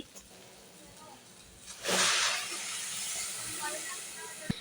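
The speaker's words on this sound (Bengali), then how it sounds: "এখানে চালটা ভাজা ভাজা হয়ে গেছে, এখন আমি গরম পানি দিয়ে দিচ্ছি।" Hot water poured onto fried rice for khichuri sets off a sudden loud hiss of steam that swells and then settles into a softer sustained sizzle, ending with a sharp click.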